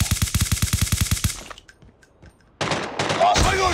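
Call of Duty Mobile gunfire: a rapid, loud automatic burst of about a dozen evenly spaced shots, a brief lull with faint clicks, then a dense spray of fire and impacts.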